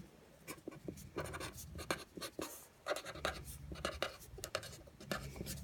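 A pen or pencil scratches across paper in quick, close strokes of uneven rhythm while notes are handwritten.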